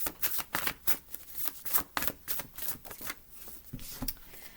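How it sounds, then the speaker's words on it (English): Close, quiet shuffling of a deck of cards: repeated quick papery riffles and flicks in an uneven rhythm, with no talking. "It's hard to shuffle these."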